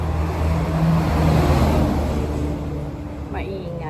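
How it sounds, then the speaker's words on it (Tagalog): Traffic passing on a roadside highway beside a corner shop: a loud rush of cars and a revving engine sweeping by up close, with someone talking over it. "Maya-maya may dumadaang sasakyan kasi nandito ako sa karsada ngayon."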